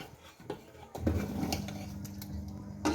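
Dishes, pots and utensils are washed in a village kitchen, with soft clinks and scrapes over running water, close and fairly quiet.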